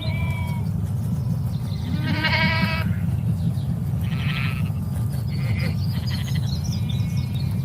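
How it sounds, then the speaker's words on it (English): Sheep and a lamb bleat in a green pasture, a few short wavering calls over a constant low rumble of wind or engine noise, with faint birdsong between them. "There's a mother sheep just standing, staring at us, and just been joined by her baby lamb."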